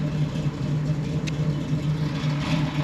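A big block Chevy Nova with a new intake manifold rumbles at a steady idle close by, a deep, even drone with no revving.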